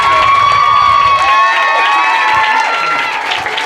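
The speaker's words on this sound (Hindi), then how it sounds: "अब एक बार जोरदार ताली हो जाए" Loud cheering and clapping from a crowd of children at an award ceremony, a bright burst of shouts and applause that fades slightly toward the end.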